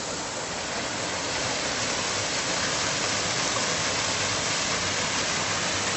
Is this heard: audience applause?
no